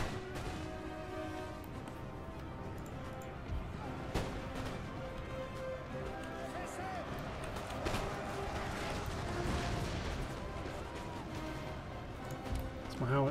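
Distant artillery and musket volleys from a Napoleon Total War battle at Paris rumble and crack irregularly beneath a dense, steady battlefield din, with a few sharper reports standing out.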